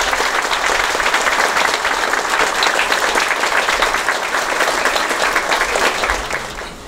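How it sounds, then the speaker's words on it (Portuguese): A room full of people applauds at a swearing-in ceremony for a public archive in Uberaba, Brazil, loud dense clapping sustained for about six seconds before tapering off at the end. "Uma salva de palmas."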